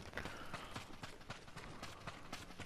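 Horse hooves clip-clop at a steady trot in Ghost of Tsushima, a dense run of close, crisp strikes over a busy game backdrop, with no speech.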